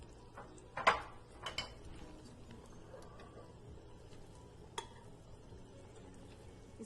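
Pieces of mutton meat are dropped onto softened onions in a pan, giving a few clattering knocks and then a faint, steady sizzle with occasional stirring clicks.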